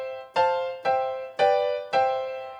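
A piano strikes a major chord four times at an even, unhurried pace. Each chord rings out clearly and fades slightly before the next. No voices are heard.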